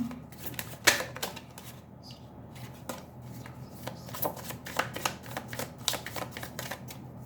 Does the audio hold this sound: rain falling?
no